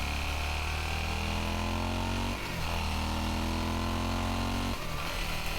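A motorcycle engine captured by a GoPro microphone drones steadily and loudly, with two brief dips where the pitch drops and climbs again, like gear changes, and no talking.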